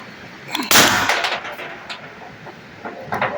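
A Valken M17 airsoft gun on stock factory internals fires a single sharp shot at 200 bar with 1100 PSI output, a loud close crack with a brief tail, then quieter handling sounds.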